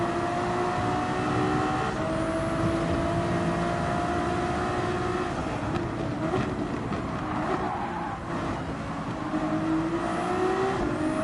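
Race car engine in Gran Turismo 7 during a Manufacturers Cup online race, droning loudly and steadily throughout with rising and falling pitch as the car brakes and accelerates out of corners.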